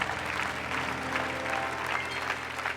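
A church congregation bursts into applause and cheering, dense close clapping mixed with crowd voices that fill the space.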